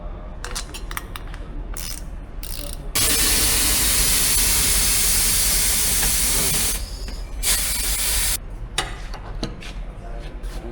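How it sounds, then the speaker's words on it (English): A steady burst of aerosol spray on a motorcycle tire during a tire change hisses loudly for about four seconds, set between quieter clicks and handling noises. "I like to use spray against pinching."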